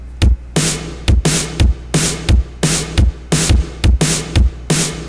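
A drum and bass beat at 174 BPM plays a punchy kick and snare pattern, with deep kicks and bright cracking snares repeating in a tight, fast, loud groove.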